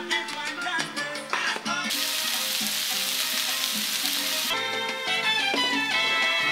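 Chicken fries in a hot pan with a loud, steady sizzle and crackle that swells into a bright hiss, with background music playing throughout.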